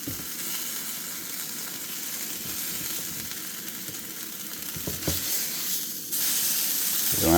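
Pumpkin cheesecake pancake batter frying in a pan, a steady close hiss and crackle of sizzling that holds throughout, growing a little louder near the end.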